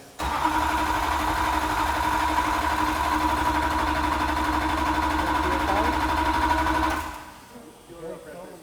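A 1000-horsepower Duramax diesel swapped into a Camaro fires for the first time, cranking straight into a loud, steady rumbling run for about seven seconds before cutting down, close up, with voices nearby.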